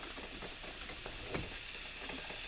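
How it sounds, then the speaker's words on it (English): Mild ground pork breakfast sausage browning in a pan, a steady soft sizzle and hiss throughout with faint stirring clicks, fairly quiet and with no talking. "So I'm just browning up some breakfast sausage"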